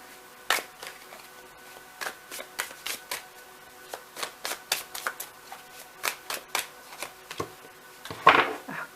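Tarot deck shuffled by hand, with crisp riffling card flicks coming in quick irregular bursts, close and moderately loud, and a short rustling scrape near the end and no talking.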